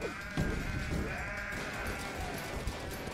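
Sheep bleating in the Deeeer Simulator video game, a long, wavering bleat that stays close and prominent over busy game sounds for about three seconds.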